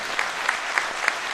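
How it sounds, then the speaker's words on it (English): A wrestling-show crowd claps in an indoor venue, a dense, loud wash of applause with a few sharper slaps standing out at a steady rhythm. "so if you could give her a round of applause."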